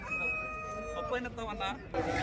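A Nallagadda Abbras cockerel at the Nallapadu rooster market crows close by in a short drawn-out call, with people talking nearby.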